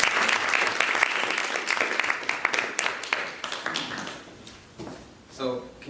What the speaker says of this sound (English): And actually, can we give Linda a big round of applause for helping out?